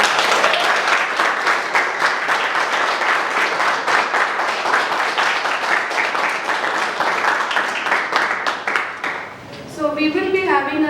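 Sustained applause from a large audience at a school event, dense clapping that fills the room for about nine seconds, then tapers off briefly before picking up again near the end.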